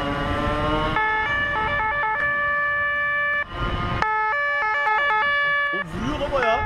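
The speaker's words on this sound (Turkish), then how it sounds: "Bak sirenin ne kadar huzurlu." An emergency vehicle siren wails loud and close, its tone stepping between pitches in repeated bursts, with engine noise and brief voices mixed in.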